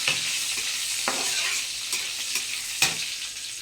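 Oil sizzles steadily in a pan at the start of a crab curry, with sharp stirring clicks and scrapes in the foreground and no talking.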